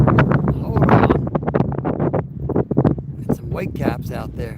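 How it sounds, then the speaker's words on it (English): Strong wind blows hard outdoors over open water with whitecaps, loud turbulent buffeting against the microphone with surging rushes and flutter throughout. "Huge wind coming."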